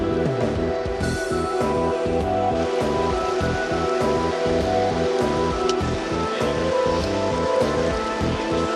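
Strong river current rushing through a cave, a loud, steady roar of churning water with no break from start to finish.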